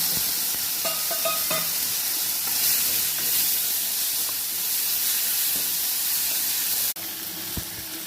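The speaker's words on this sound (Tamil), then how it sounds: "தக்காளி நல்லா வதக்கி விட்டுட்டு" Tomatoes sauté with asafoetida in a hot pan, a steady, bright sizzle and hiss that runs throughout. A few light stirring knocks come early, and a sharp clunk sounds near the end, with no voices.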